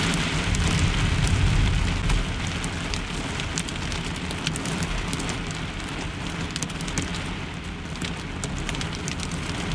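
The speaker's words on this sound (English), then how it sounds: "It is just absolutely dumping rain out there. And now it's hailing." Heavy rain mixed with hail pounding on a truck during a severe overnight thunderstorm, a dense, steady roar with scattered sharp ticks of impacts, loud and enveloping without pause.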